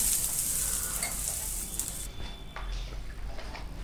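Water boils in a pan with roasted semolina for sheera, giving a steady hissing, bubbling sizzle broken by a few light stirring scrapes, with no one speaking.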